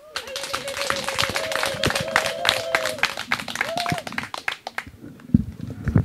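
Applause from an audience at a school donation event, a dense burst of many hands clapping that fades near the end, overlaid by a sustained tonal voice or whistle.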